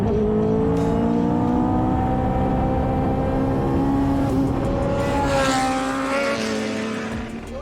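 Lotus Evija hypercar drives by with a continuous, loud powertrain whine whose pitch rises and falls as it accelerates, fading slightly toward the end; no voices.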